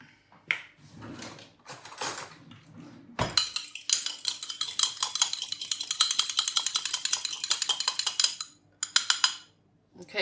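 An egg is beaten with a utensil in a cup for a sausage-roll egg wash: rapid, steady clinking and tapping runs for about five seconds, close and fairly loud, after brief scattered kitchen noises.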